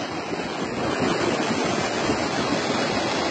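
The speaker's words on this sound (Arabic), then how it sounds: "شلالات عملاقة" Giant waterfalls roar during a flood in Salalah, Oman, a dense, continuous broadband rush of falling water that stays loud and steady throughout, with no voices.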